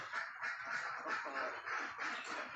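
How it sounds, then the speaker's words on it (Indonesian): A flock of local Sumatran ducks quacks in a poultry pen, a dense, continuous chorus of overlapping nasal calls at moderate distance, with no talking. "Bebek ini ya bebek lokal Sumatera, jadi bebek lokal Sumatera ya kan Pak?"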